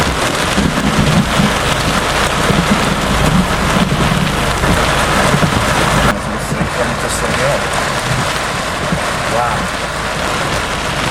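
Heavy rain pours steadily during a Florida thunderstorm, a dense loud hiss throughout with low thunder rumbling underneath, easing slightly after the midpoint.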